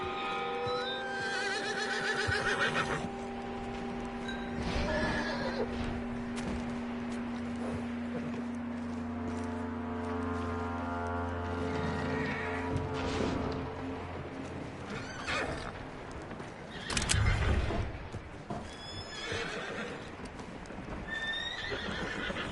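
A horse in Red Dead Redemption 2 neighs loudly several times, shrill whinnies rising and falling, with hooves clip-clopping and snorting between calls; no one speaks.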